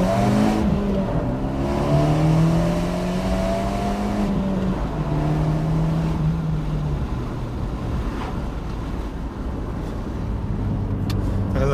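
Abarth 124 GT sports car engine revving, a loud, continuous note with rising and falling pitch sweeps, heard close up and on its own.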